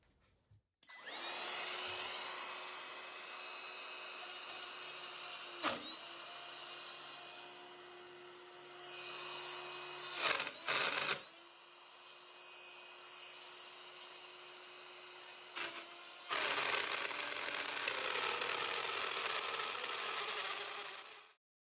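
Battery-powered router cutting a groove in hard acrylic: a high steady motor whine, close and loud, with short dips and bursts as the bit bites and the tool stops and restarts, ending in silence.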